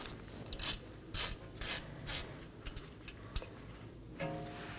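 Hand ratchet loosening the 10mm bolt that holds an ABS wheel speed sensor on the front steering knuckle of a 2015-2023 Nissan Maxima, a handful of quick clicking bursts in an uneven rhythm, close and fairly quiet, with no talk.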